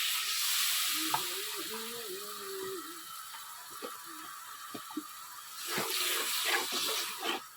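Spices and chilli sizzle and crackle in a pan for a freshwater fish curry, with a steady frying hiss and scraping stirs; a short tonal squeak rises early, then sharper clatters of the spoon against the pan come later.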